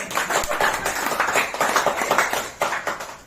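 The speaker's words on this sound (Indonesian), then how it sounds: "Tepuk tangan buat Anda" Audience clapping at a sales training session in Indonesia, a small group's hands beating in fairly rhythmic bursts, moderately loud and close, with a brief pause near the end before a final few claps.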